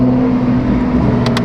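A BMW M4 with a single-turbo S55 engine drones loudly and steadily, with two quick sharp pops near the end.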